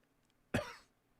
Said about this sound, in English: I got that little cough now